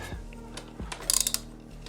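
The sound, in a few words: ratchet wrench pulling a 12mm bolt on a motorcycle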